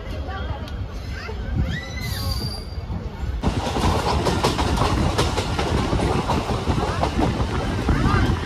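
A passenger train running on the tracks between Madurai and Kerala, heard from on board: a loud, steady rumble with rhythmic clickety-clack and wind noise that swells after a few seconds.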